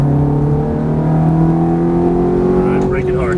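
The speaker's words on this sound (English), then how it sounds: "And getting right back on the throttle coming out." A Ferrari F430 engine pulls hard out of a turn, a loud close droning whine rising steadily in pitch as the car accelerates.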